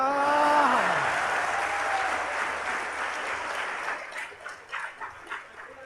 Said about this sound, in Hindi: और इस बार आपकी तालियां उठेंगी